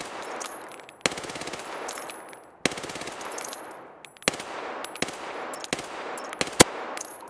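Automatic gunfire rattles in the video game Escape from Tarkov, several long sustained bursts separated by short pauses, plus a few sharp single shots, close and loud, with no talking.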